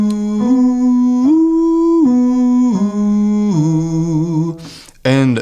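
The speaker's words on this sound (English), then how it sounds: "we're going to use the card as an onset to then go to this gentle ooh sound" A singer sustains a buzzing tone produced through a business card, sliding through several pitches before easing into a soft, pure ooh vowel at the end.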